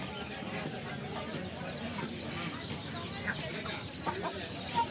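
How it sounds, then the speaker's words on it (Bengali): Chickens and a rooster cluck amid a busy, noisy market crowd, with steady background chatter and occasional sharper calls. "মুরগি রয়েছে এই যে মোরগ"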